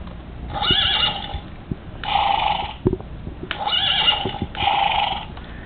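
A horse neighs several times in a row, each whinny a rising, shaky call close by, with short pauses and faint thumps between them.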